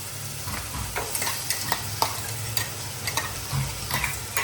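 Onion, tomato, green garlic and ginger sizzle and fry in hot oil as a tempering, with steady crackling and intermittent stirring scrapes, close and fairly loud, with no talk.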